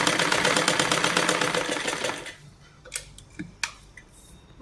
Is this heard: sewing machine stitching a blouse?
yes